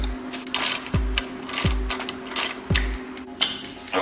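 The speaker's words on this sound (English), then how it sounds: "Lock that side down with a ratchet." A hand ratchet tightens an axle slider bolt on a Yamaha FZ-07 motorcycle: bursts of rapid clicking, each ending in a firm knock, repeat at a steady pace nearby.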